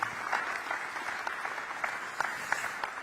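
Audience applause at a Korean community reception in Singapore, a steady wash of many hands clapping at moderate level for about three seconds with no voices on top.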